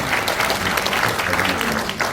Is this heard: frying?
no